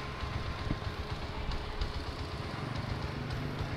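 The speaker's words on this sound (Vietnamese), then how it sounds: "Nó còn đang nổ máy luôn nha." A Honda Master 125cc motorcycle engine idles steadily nearby, a low, even chugging hum that holds without revving throughout.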